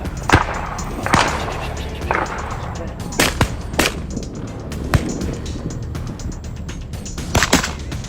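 Gunshots from a hunting gun fired from an aircraft at wild boar over crop farms, a series of sharp cracks at irregular intervals over a constant engine drone, fairly close and loud.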